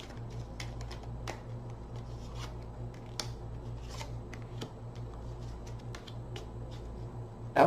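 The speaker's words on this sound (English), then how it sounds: "One more shuffle." Soft, repeated riffling and slapping of tarot cards being shuffled close by, irregular bursts over a low steady hum.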